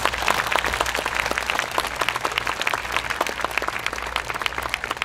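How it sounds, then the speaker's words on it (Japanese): An audience gives hearty applause to five teams at an awards ceremony of a YOSAKOI dance festival in Obama, Wakasa, a loud, dense and continuous clapping from a large crowd with no talk. "それでは今一度5チームに盛大な拍手をお願いいたします。"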